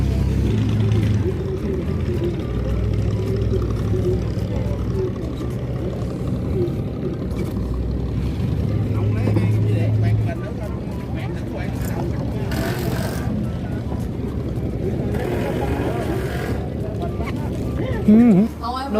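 A boat on a waterway in Vietnam gives a low, steady motor drone with lapping water close by, while people talk over it and a brief louder bump comes near the end.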